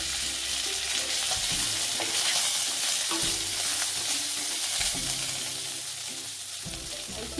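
Ginger fries with cumin and curry leaves in a pan, giving a loud, continuous sizzle broken by repeated spoon-stirring scrapes and knocks.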